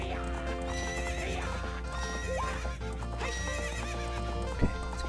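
A horse in the video game Zelda: Ocarina of Time neighs and whinnies over steady clip-clopping hooves, mixed with looping game music throughout.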